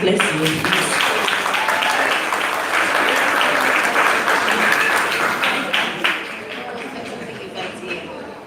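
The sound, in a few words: applause at pre-K school leaving exercise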